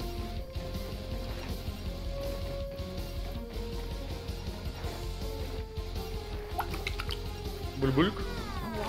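Water trickles and drips in a bug-scale survival video game, with a quick run of bright droplet and pouring sounds near the end over a steady tonal backdrop.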